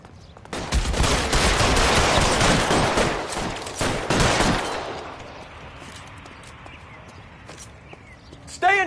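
Dense, rapid gunfire in a shootout from the video game LA Noire, a loud barrage of overlapping shots for several seconds that abruptly drops away to a quieter scene with distant sounds and a brief voice at the end.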